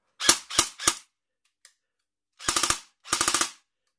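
An electric airsoft AK rifle fitted with converted furniture fires three single clicking shots, then two short bursts of rapid snapping shots, crisp and close with silence between.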